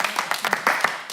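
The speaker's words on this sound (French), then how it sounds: "Là, on peut applaudir, c'est mieux." A small group gives a brief round of applause at a celebration with toasts: a quick, uneven run of close claps lasting about a second.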